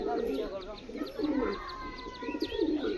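Pigeons of all ages, from young birds to adults, coo in soft repeated rounds, joined by scattered higher chirps and other bird calls. The flock is close by, with a steady rustle of background noise under the calls.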